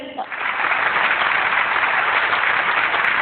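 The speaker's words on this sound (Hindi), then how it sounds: "अच्छा, एक दफा फिर तालियां बजाइए।" An audience at an Indian comedy show breaks into loud, dense clapping that starts almost at once and stays steady and close throughout.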